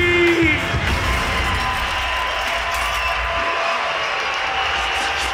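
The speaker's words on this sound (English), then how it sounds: "Now somebody, anybody, everybody scream!" A crowd at a live hip-hop show screams, whoops and cheers in a loud, sustained roar, with a sharp whistle-like cry at the very start.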